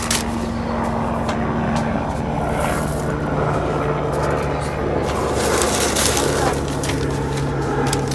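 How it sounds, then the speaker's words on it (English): A helicopter's steady rotor drone and engine rumble fill the air continuously, loud and close, with a voice speaking over it. "Sorry, there's a helicopter going by."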